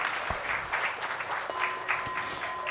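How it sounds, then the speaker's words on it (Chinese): Warm applause fills a temple hall during a Buddhist ceremony, many hands clapping in a dense, steady patter from start to finish with no voices on top. "让我们以热烈的掌声感谢根本传承上师加持同修圆满吉祥"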